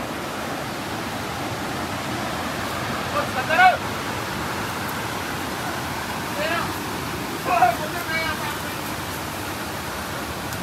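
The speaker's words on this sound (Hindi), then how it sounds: "पानी बड़ा आ रहा" Seawater surges into a sea cave as a continuous broadband rush, with a few louder swells breaking through about midway and again near the end.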